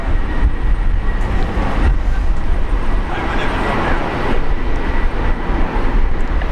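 A Jetstar aircraft at Brisbane Airport roars loudly and steadily through heavy rain, a broad continuous rumble close by with a faint voice in the mix.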